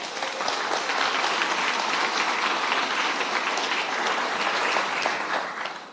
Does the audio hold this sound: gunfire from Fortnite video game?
no